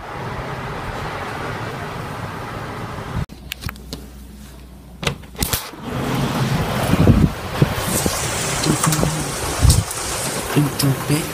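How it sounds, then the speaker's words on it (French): Steady gusting wind roars with a dense wash of rain during a storm in Montoison, France, then the storm noise shifts and swells with sharp bursts and rumbling gusts close to the microphone. "Une tempête qui m'a réveillée, voilà, avec de la pluie"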